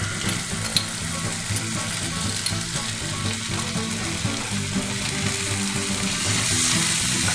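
Ginger garlic paste and chopped green chilies fry with onion and tomato in a pan, a dense continuous sizzle with a low rumbling undertone, steady and close, rising slightly toward the end without any speech.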